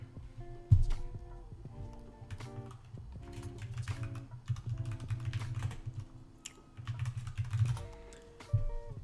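Keys clatter on a computer keyboard as someone types a search while setting up a Fortnite aim trainer, with quick, uneven bursts of clicks over a low, steady hum.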